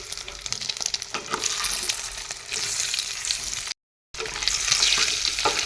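Eggs fry in hot oil in a pan, a loud, steady crackling sizzle with bursts of spattering, close up and without speech, broken briefly by a gap of silence.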